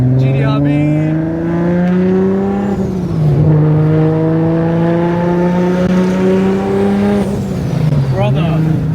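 A Nissan Silvia S15's engine revs hard and loud, its pitch climbing through long pulls with brief drops between shifts, the sound of an aggressive build heard up close from inside the car.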